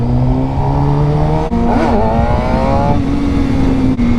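Sport bike engine revving hard in first gear, loud and close, with harmonic engine pitch climbing, a brief gap near a shift, then steady high-revving drone throughout.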